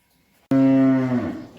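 A nine-month-old heifer calf lets out a single loud moo, sudden and close, trailing off after about a second with no talking.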